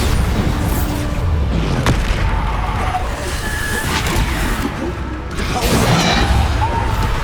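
Bombarda explosion spells go off in Hogwarts Legacy combat: loud, heavy booms and crashing impacts in a dense, continuous battle din, with several sharp hits standing out.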